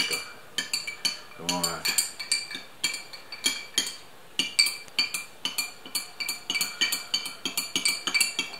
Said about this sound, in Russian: Вот, тщательно перемешиваем и смотрим.